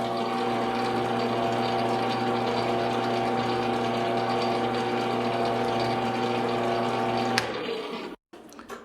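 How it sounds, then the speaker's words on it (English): Steady mechanical whine and hum of a machine reaming holes in a bench grinder diamond dresser part, running continuously at an even pitch before cutting off abruptly near the end. "And that's it, holes reamed."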